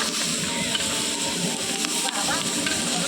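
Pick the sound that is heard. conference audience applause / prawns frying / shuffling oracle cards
prawns frying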